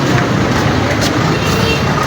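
Busy road traffic with many vehicles passing in a continuous, loud wash of engine and tyre noise close by.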